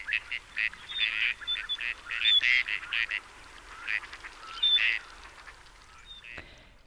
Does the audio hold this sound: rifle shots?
no